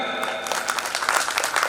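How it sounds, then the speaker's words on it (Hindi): A crowd at a stage play event claps loudly and steadily for honoured guests, a close, dense burst of hand clapping lasting under two seconds with no speech over it. "एक जोरदार तालियां"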